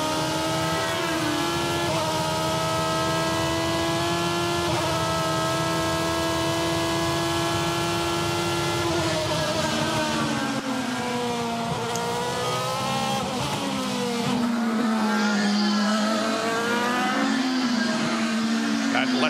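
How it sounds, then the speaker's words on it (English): A Honda-powered IndyCar race car at full throttle during a 2009 race, its engine note sustained and loud with rising and falling pitch shifts, heard under continuous commentator talk. "Now you're thinking power, power, power. There it is, full throttle."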